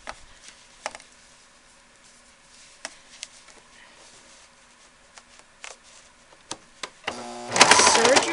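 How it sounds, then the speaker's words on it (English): Scattered quiet clicks and taps of handling come from a serger being readied to run a seam on a fabric scrap for the hood of a hooded towel. In the last second the machine starts with a loud, close burst of whirring. "Serge your seam."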